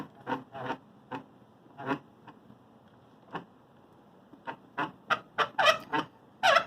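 A milling machine crank needing grease squeaks repeatedly as it turns, irregular high-pitched creaks coming in bursts and growing quicker and louder toward the end.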